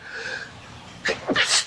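A single sharp human sneeze, near and fairly loud, with a quick inhaled lead-in and an explosive burst, in a podcast conversation setting.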